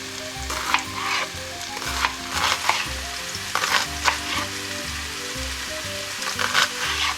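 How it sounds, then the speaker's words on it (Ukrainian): Mushrooms sizzle steadily in a hot pan while being fried until golden, with soft scraping stirs and bursts of crackling spitting over a low background hum. "Помішуючи, смажимо гриби до золотистої скоринки."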